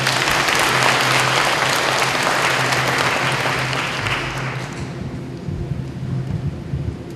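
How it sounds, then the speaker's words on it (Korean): An audience at a university open-day event gives a dense, loud round of applause to welcome the humanities college dean, tapering off after about five seconds. "박수로 맞아주시기 바랍니다"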